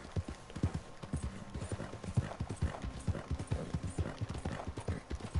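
Horse hooves clip-clop steadily in the video game Red Dead Redemption 2, a continuous even gait heard fairly close with faint ambient sound underneath.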